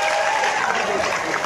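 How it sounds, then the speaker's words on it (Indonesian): An audience at a regional gathering during a visit by the agriculture minister claps for the regent, a dense, steady wash of applause from many hands, fairly loud and continuous, with crowd voices mixed in. "Tepuk tangan untuk Pak Bupati."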